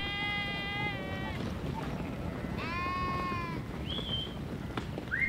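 Several sheep in a corral bleat in turn over a steady background rumble, their wavering calls rising and fading at a moderate distance.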